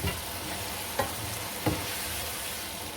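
Mixed vegetables for pulao sauté on a medium-high flame in a steady, close sizzle, with two brief stirring knocks standing out over the hiss and no one speaking.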